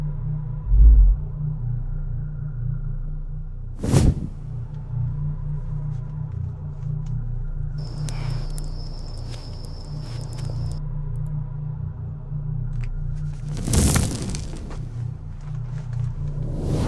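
A persistent low hum from a military underground station's life support system drones steadily throughout, with a few brief dull thuds rising above it.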